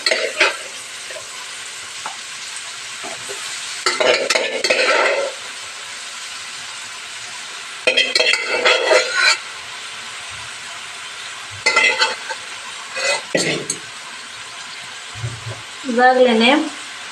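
Onion frying in a pan as cooked dal and cabbage are stirred in, giving a steady sizzle with bursts of stirring and scraping that come and go throughout.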